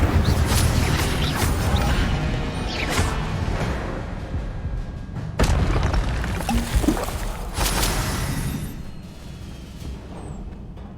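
Incendio fire spell cast in the video game Hogwarts Legacy, a loud rushing whoosh with sharp bursts and crackling impacts that swell and fade over several seconds, layered over game ambience.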